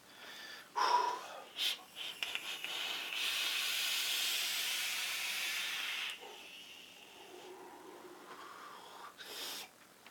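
Vapor hissing from a Twisted Messes quad-coil RDA with the chuff cap wide open, a long steady breathy draw lasting several seconds between shorter puffs and clicks, close and moderately loud.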